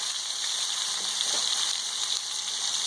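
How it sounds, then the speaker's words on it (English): Meat for a Peruvian-style pot roast sears in a hot pan, giving a steady, bright, close hiss of frying with a few faint crackles and no talk. "I like a nice sear. You might think you're burning it, but you're not."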